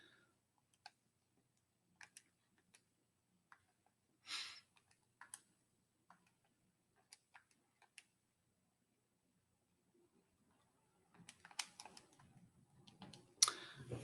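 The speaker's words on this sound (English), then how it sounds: "you can type it into your calculator just like that" Numbers being typed into a calculator, a sparse run of quiet, isolated button clicks spaced irregularly, then a denser cluster of taps and rustling toward the end, close and faint with no talking.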